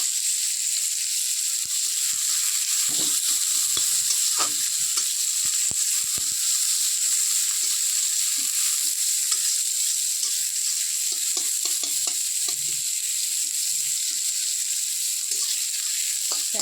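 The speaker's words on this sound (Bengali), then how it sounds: "পেঁয়াজটা একটু ভাজা ভাজা হয়ে গেলে" Steady sizzling of onions frying in a pan, a continuous bright hiss with occasional soft stirring scrapes, close up and without voices.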